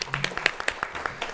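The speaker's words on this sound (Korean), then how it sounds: "우리 안문석 박사님께 다시 한번 큰 박수 부탁드립니다" An audience at an indoor lecture event honoring Dr. Ahn Moon-suk gives him a round of applause, with uneven, fairly sparse hand claps from a modest crowd in a room, soft and steady.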